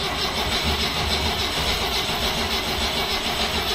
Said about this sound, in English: And you hit the button again there, and it just turns a couple of times,